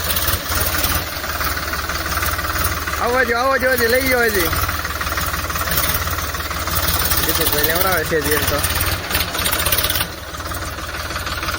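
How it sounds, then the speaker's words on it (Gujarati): A low, steady tractor engine drones throughout as people talk loudly over it, with a brief dip in the rumble near the end. "આપણું ટ્રેક્ટર નીકળી જશે બહાર"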